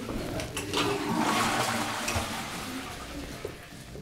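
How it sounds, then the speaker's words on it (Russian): Water gushes steadily from a tap, a loud, close rush, with a Grundfos Scala2 pump station running under it; no one speaks. "Ну работает насос, слышно"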